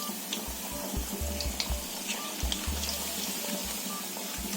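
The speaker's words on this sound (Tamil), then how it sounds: "ஃபுல்லாக வந்து வடையை நம்ம தட்டி எண்ணெயில் போட்டாச்சு" Banana flower vada made with ration toor dal frying in hot oil, a steady soft sizzle and bubbling with small pops, heard alone at low level.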